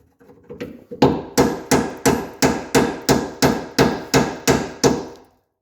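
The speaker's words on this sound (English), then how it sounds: "We're gonna pound this thing on here." About a dozen hard, evenly spaced hammer blows ring out as a trailer hitch is pounded onto a 2004 Dodge Dakota. They start with a few lighter taps, then strike loud and close at a steady rhythm, with no talking.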